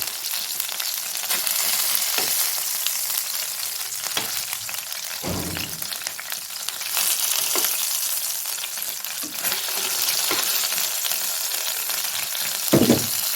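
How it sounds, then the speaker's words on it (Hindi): Kebabs frying in hot oil in a pan give a dense, steady crackling sizzle, close and fairly loud, with a couple of brief knocks and no voices. "इसी तरह हम सारे अपने कबाब फ्राई कर लेंगे।"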